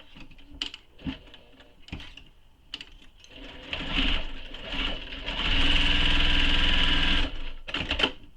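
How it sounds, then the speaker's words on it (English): A sewing machine stitches a satchel seam into fabric, starting with short bursts and then settling into a long, steady, rapid whirring run before stopping with a few more quick bursts, close and with no talk. "now I'm sewing down onto the fabric"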